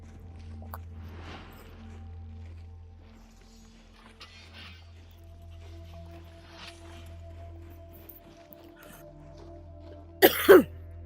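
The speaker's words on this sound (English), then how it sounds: "I had to take the headset off because I couldn't really cough at you too much" A person coughs in a short, loud burst near the end, following a long stretch of quiet background hum.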